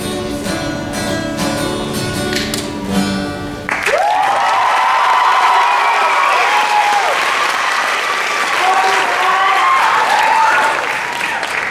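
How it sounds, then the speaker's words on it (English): A song ends abruptly and a live audience breaks into loud, sustained applause and cheering for a performer named Mike, dense clapping close and full with shouts and whistles rising above it for about eight seconds. "Another round of applause for Mike."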